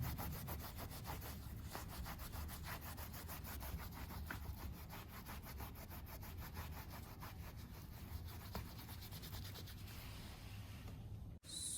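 Dried red chilies are rubbed clean of dust with a steady, close, scratchy rasping that keeps up a quick back-and-forth rhythm, alone and without talk.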